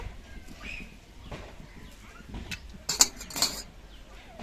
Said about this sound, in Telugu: వీలైనంత చిన్న ముక్కలు చేసుకుంటున్నానండి చిన్న చిన్న ముక్కలుగా